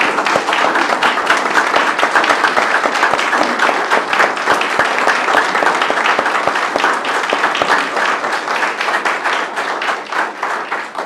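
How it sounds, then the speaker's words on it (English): A crowd at a Columbus City Schools board meeting gives sustained applause, dense rapid clapping at a steady loud level that continues for the whole stretch and fades slightly at the end. "One more round of applause"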